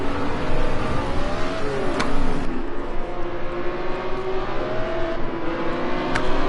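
M1 Pro race cars circulate at Long Beach, several engines droning and revving together at a steady pace, with a pitch-shifting whine as cars accelerate off the line.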